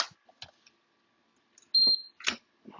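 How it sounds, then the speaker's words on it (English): A Schlage NDE lock gives a short, high electronic beep, clear and close, after a few soft clicks of its interior lever being turned and released, with another brief tone following. "Get a beep when we do that."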